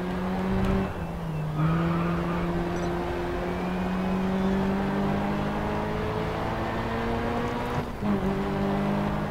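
In the racing game Grid Autosport, a race car engine drones loudly and continuously as it climbs and dips in pitch through gear changes, with brief dips around shifts and faint tire squeal during a drift.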